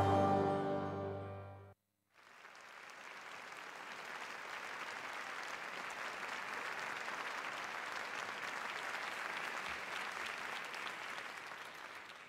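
Audience applause for a musical act at an arts event: after a brief held tone and a moment of near silence, a broad, steady roar of many hands clapping builds and continues evenly to the end.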